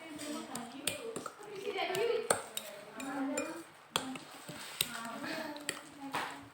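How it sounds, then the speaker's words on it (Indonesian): A spoon stirs salt, sugar and pepper in a bowl, making irregular clinks and sharp metallic taps against the side, with a voice talking softly over it. "Kita aduk dulu garamnya."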